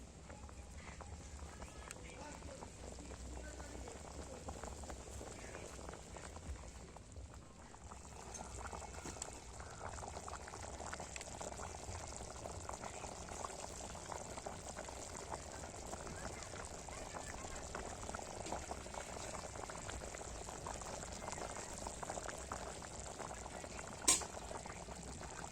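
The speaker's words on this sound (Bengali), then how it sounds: "মাংসটা পুরো ফুটে গেছে একদম" Duck meat curry bubbles in a pot at a steady, quiet boil, with soft continuous popping and simmering and a faint voice in the background.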